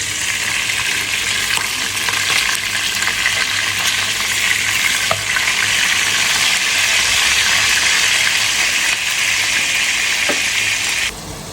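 Food fries in a pan with a loud, steady hiss and crackle that runs unbroken for about eleven seconds before cutting off abruptly at the end.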